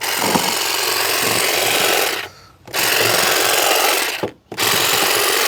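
A Saker electric hedge trimmer buzzes loudly and steadily while cutting an overgrown garden hedge, with two brief gaps where the motor drops off before roaring back.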